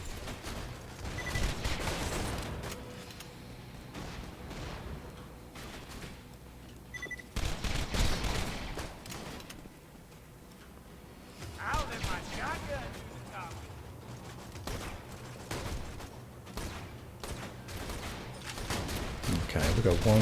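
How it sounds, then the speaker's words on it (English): Bursts of rapid gunfire from the video game Borderlands 2, played as Zer0 in Lynchwood, come in loud clustered volleys separated by quieter gaps, with a voice talking throughout. "We can shoot some of these guys while we wait."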